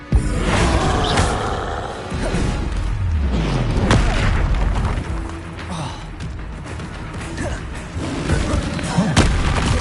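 Bombarda and Confringo spell blasts in Hogwarts Legacy, a loud, dense barrage of booming explosions and crashing impacts that overlap one another continuously, with voices underneath.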